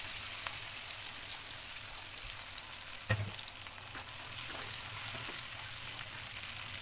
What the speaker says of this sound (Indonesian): langsung saja ya kita tumis bumbunya tadi ya teman-teman